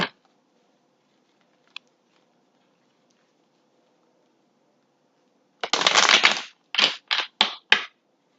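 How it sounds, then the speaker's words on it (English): Tarot cards being shuffled by hand, a few quick riffling bursts close up after a quiet stretch, each burst brief and crisp with short gaps between. "I shuffle the cards until I feel they no longer move in"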